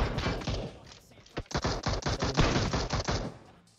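Bursts of gunfire from the video game PUBG, with Groza and MK14 rifles firing on full auto, crackle in rapid uneven volleys at moderate loudness, heaviest in the middle of the stretch.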